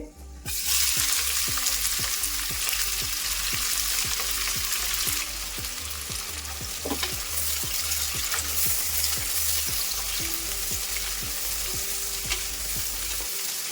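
Finely chopped onions fry with bay leaf, cinnamon, black cardamom, cloves, black pepper and star anise for chicken biryani, a loud continuous sizzle broken by steady rhythmic scraping of a spoon stirring the pan.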